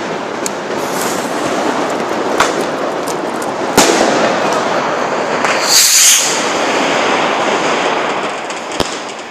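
Continuous crackling and popping of New Year's Eve fireworks and rockets in Rotterdam, with sharp louder bangs standing out, dense and loud throughout.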